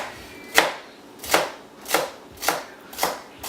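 A knife chops celery on a board into roughly 1.5 cm pieces for a mirepoix for chicken stock. Five crisp, evenly spaced strokes land close and clear with no talking.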